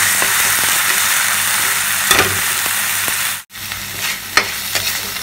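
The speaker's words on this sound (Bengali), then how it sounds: "বেটে রাখা পোস্তটা একটু ভালো করে একটু ভাজবো" Ground poppy seed paste frying in a pan while being stirred: steady, close hiss and sizzle with occasional scraping strokes and clicks of the utensil, with no talking.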